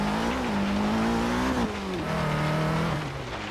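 A 2013 Dodge Dart GT engine revs hard in Forza Horizon 3 during an uphill climb challenge, a loud steady buzzing drone whose pitch climbs, drops sharply around a shift, then holds and sags slightly, with no voices.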